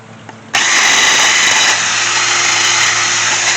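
A wire brush scrubs loose rust and scale off the front brake hub of a 2009 Ford Focus, a loud steady harsh buzzing hiss that kicks in abruptly after a brief quiet moment and continues close up.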